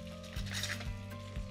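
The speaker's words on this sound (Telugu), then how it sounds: "రెండు సైడ్లు బాగా ఫ్రై చేసుకుందాము." Food frying in a pan, turned to cook both sides, giving a soft continuous sizzle with a low hum and faint periodic bumps, brief and quiet.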